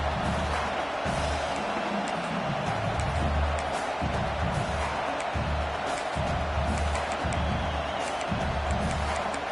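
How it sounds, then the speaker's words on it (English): A fired-up football stadium crowd roars with sustained, dense cheering and noise early in the game, a broad wash of voices that stays loud and continuous throughout. "It's early, but this crowd is fired up"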